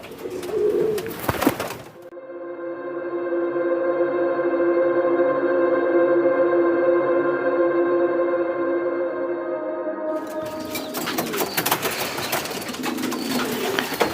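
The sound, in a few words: pigeon cooing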